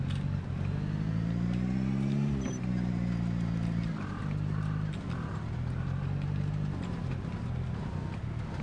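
A truck maneuvers in the Project Zomboid video game. Its engine drones loudly and continuously, and the pitch climbs, drops, then settles into a lower idle as it shifts and repositions. No one speaks.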